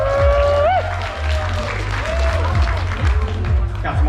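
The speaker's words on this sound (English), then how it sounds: "So how about a huge round of applause there?" Audience applause at a charity auction, clapping and crowd noise running under music with sliding tones and a low steady bass, loud and continuous throughout.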